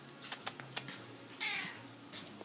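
A cat waiting for tuna meows once, fairly faint and brief, after a few sharp tapping clicks; the scene is otherwise quiet.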